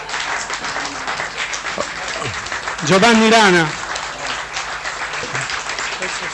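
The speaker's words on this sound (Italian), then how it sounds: "Un grande applauso" A standing audience at the Venice international Golden Lion awards applauds Giovanni Rana, a broad steady clapping wash under an announcer's voice, with a brief musical flourish in the middle.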